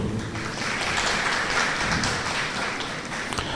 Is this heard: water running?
no